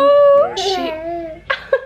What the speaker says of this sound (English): if you can hear my cat, he's choking over here. He's fine, but he's like coughing